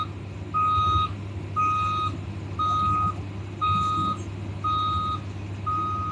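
A truck fitted with a small crane reverses into a site to lift out a 1000-gallon underground propane tank, its backup alarm sounding six loud, evenly spaced beeps over a steady low engine rumble.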